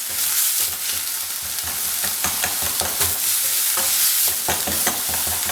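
Spiced minced keema with salt, chili flakes and turmeric being stirred as it fries in a pan, a steady sizzle broken by repeated scraping strokes of the spoon, close and fairly loud, no voices.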